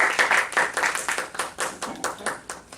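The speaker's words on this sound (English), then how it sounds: "Big round of applause for Dr." Audience applause for Dr. Uneeb at a Toastmasters meeting, a burst of sharp, fairly close hand claps with an uneven rhythm that thins slightly toward the end.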